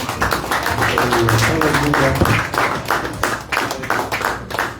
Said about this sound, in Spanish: Regálele palmas a nuestro Dios.